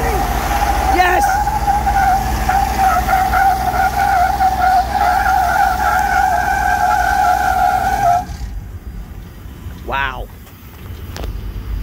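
A high-mileage vehicle being test driven squeals its tires in a long, loud, sustained skid close by, with engine noise and people talking, before the screech cuts off and a brief chirp follows.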